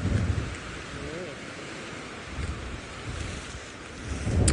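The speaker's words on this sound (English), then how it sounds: "this wind is quite strong and gusty" Strong, gusty wind on an open sunset safari drive, a low roaring rumble that buffets the microphone and swells in several loud surges, close and heavy throughout.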